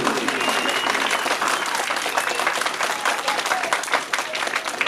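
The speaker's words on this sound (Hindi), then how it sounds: "भरपूर तालियां जी क्लास नर्सरी के लिए।" Enthusiastic audience applause at a school prize-giving event, dense and continuous throughout with crowd noise and some voices mixed in.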